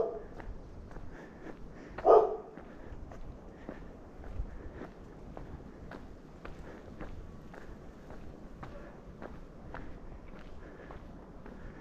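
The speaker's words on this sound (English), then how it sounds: "Oh, that's a dog." A dog barks a few times at a distance on a residential street in Manhattan Beach, amid the light rhythmic footsteps of someone walking past.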